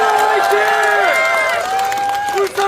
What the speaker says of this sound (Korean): 힘찬 박수와 응원의 함성 부탁드립니다